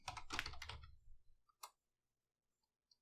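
A command typed on a computer keyboard while configuring a Cisco IOS device: a quick cluster of close, crisp key clicks, then a few isolated taps trailing off into silence.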